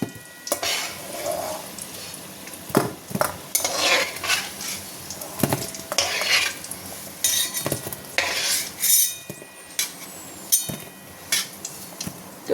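Potatoes and paneer fry in a pan, with repeated scraping and clinking of a spatula stirring against metal over a soft sizzle, close and irregular throughout.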